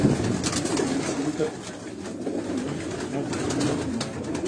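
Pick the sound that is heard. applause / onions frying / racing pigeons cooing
racing pigeons cooing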